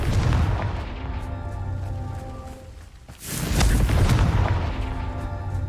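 A Confringo blasting spell detonating in Hogwarts Legacy, heard as a loud booming burst followed by a rolling rumble after a brief dip, with no voices.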